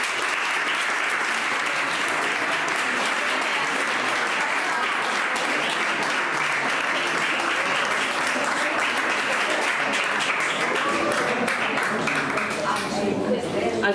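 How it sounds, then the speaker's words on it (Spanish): Loud, sustained applause from a large crowd at a town festival ceremony in Marcilla, dense clapping filling the whole stretch without a break. "le damos un fuerte aplauso a Rubén Castillejo."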